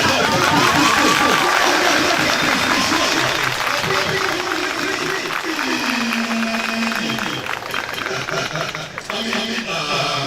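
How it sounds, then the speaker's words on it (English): Audience clapping at a primary and junior secondary school AGM, a steady crowd-wide patter of hands that fills the hall for the whole stretch, with voices talking over it. "Please, clap anyhow."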